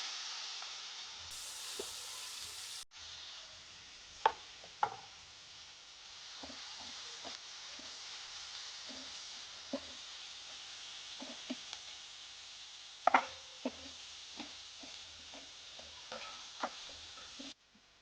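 Onion and curry leaves with asafoetida sauté in hot oil, a low steady sizzle broken by scattered clicks and taps of a spoon stirring the pan, close and fairly quiet.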